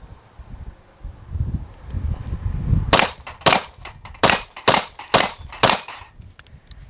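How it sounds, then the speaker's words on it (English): Flux Raider backpack pistol firing at steel plate racks outdoors: about seven sharp, loud shots in fairly quick succession, each followed by a bright metallic ring from the struck steel. "let's hit these plate racks. You can see the recoil"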